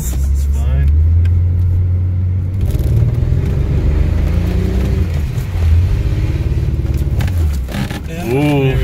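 A BMW E36 skidding, engine roaring and revving hard with tyre noise, loud and close, a rising whine near the end, under occasional voices.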